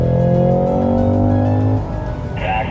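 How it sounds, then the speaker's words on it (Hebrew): A Cadillac lapping a race track in the heat, its engine giving a loud, steady harmonic drone that drops off sharply as the driver comes off the throttle to brake hard for a corner. A short, high squeal follows near the end. "ברקס חזק בקו ישר ולעזוב ברקס ולצלול חזק"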